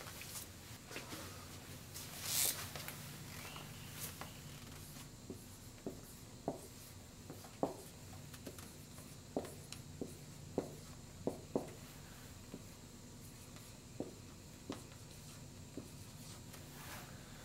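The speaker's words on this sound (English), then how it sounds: "And now I write down my value of 19 and a half grams." A pen writes down a measured mass value while candle density is measured: faint, close scratching strokes and scattered light taps spread irregularly across a quiet room, with no voice.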